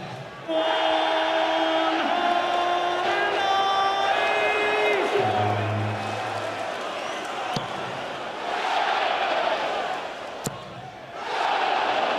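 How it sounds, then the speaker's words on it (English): A darts crowd at the World Darts Championship roars and whoops after a maximum in a round-one match between Ian White and Mervyn King. The loud, sustained cheering swells and fades over several seconds, with some tonal tones early on. "The crowd absolutely loving it."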